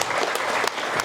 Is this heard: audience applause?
yes